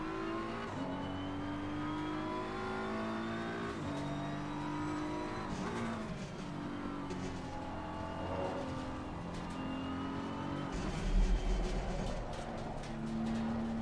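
Race car engines in Assetto Corsa Competizione with a full grid of cars, steady droning engine notes that rise and fall as they rev and shift, with other cars passing, no talk.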